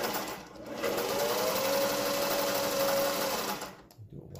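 A Singer 401A sewing machine stitches in a steady, close mechanical whir with a faint hum, starting and stopping within a few seconds, alone without talk.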